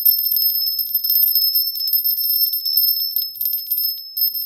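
A bell rings continuously and loudly with a steady bright ring, sounding alone throughout, used for cleansing energy during a full moon live session.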